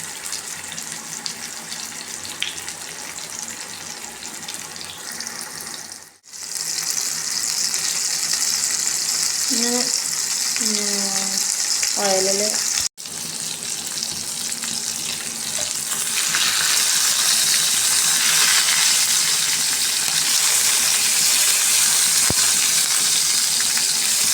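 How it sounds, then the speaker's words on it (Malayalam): Steady hiss of fish frying in hot oil fills the whole stretch, with a short break midway and a few clinks and scrapes; no voices. "നല്ലോണം ഓയിൽ ചൂടായതിന് ശേഷം നമുക്ക് മീനെ പൊരിക്കാം"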